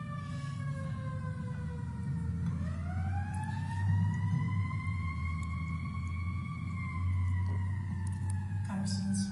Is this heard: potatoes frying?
no